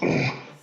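A single brief growl or huff from a Minecraft wolf, a short rough voiced sound that fades quickly, close and alone.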